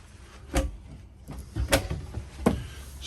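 Kitchen drawers sliding open and shut in a 2008 Forest River Lexington 255 GTS motorhome, three quick close-range clunks and rattles spaced about a second apart.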